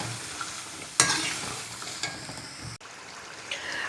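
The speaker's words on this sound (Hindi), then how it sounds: "अब इसके अंदर डाल देते हैं आलू। अब इनको भुनेंगे 5 मिनट तक," Potatoes frying in spiced masala in a pan, a soft steady sizzle broken by a few sharp stirring scrapes and clinks of a spoon, close and moderately quiet, no talk.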